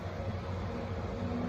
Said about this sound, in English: Sorry about that noise, there's a garbage truck going by out there